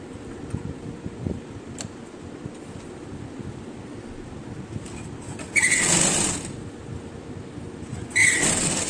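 A sewing machine stitches a box seam on a grandma-style choli blouse, two short loud bursts of motor whir rising over a quiet room background, the first longer than the second.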